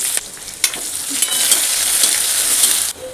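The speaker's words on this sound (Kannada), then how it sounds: "ಕರಿಬೇವು ಹಸಿದೈತೆ, ಅದಕ್ಕೆ ಚಟಪಟ ಅಂತಂತ" Curry leaves, cumin, mustard seeds and onion sizzle loudly in hot oil with occasional sharp pops and crackles, close and continuous, with a stir or two.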